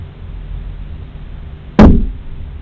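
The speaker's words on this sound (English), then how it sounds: "There was a knock" A single sharp knock or bang sounds inside a quiet hotel room, loud and close, with a short decaying ring after it and no voices.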